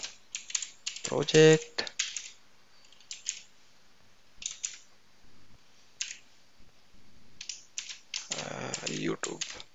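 Jenkins project name typed on a computer keyboard in short bursts of clicky keystrokes, with pauses between the bursts, close and clear, while a person talks over parts of it.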